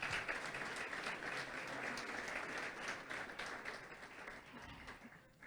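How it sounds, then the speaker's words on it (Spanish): A conference audience at a church-style event bursts into sustained applause, with dense clapping that stays strong before tapering slightly near the end, and faint voices mixed in. "un aplauso nuevamente al Señor y para ustedes"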